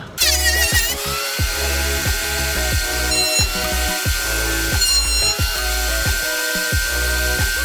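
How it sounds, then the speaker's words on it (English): A new Makita power planer runs steadily and makes several passes through scrap wood for a cutting board, a loud, close mechanical drone with rhythmic dips and cutting bursts between strokes, with no talk. "I'm going to make a few light passes through my new Makita planer."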